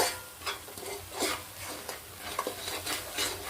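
A spoon stirs chicken pickle mixed with salt in a pot, making soft repeated scraping and swishing strokes at close range, fairly quiet throughout.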